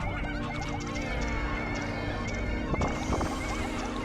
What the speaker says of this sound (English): It's mooing at me.